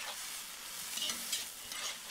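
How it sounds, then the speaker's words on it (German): Meat for lagman sears hard in a hot pan, giving a dense, continuous crackling sizzle close up while it is stirred. "Und wird scharf angebraten, aber nicht zum Tode braten."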